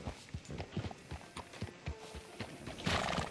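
Horse hooves clip-clop in a steady walking rhythm in Red Dead Redemption 2, close and distinct, with a brief whinny or rustle near the end and no talk.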